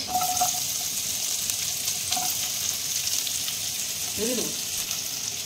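Garlic, ginger, onion, spring onion and carrot fry in oil for a soup, giving a steady close sizzle with faint stirring and a brief voice in the background.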